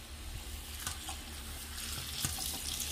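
Tap water runs into a sink while a synthetic half wig is rinsed. The splashing and spattering stay close and steady, with a few sharper splashes.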